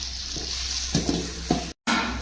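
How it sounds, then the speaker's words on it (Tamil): Onions frying with a handful of salt in a pan give a soft steady sizzle, with a few quiet stirring scrapes, close by and alone. "வெங்காயம் வெங்காயம் பொன்னிறமாக வதங்கிருச்சு"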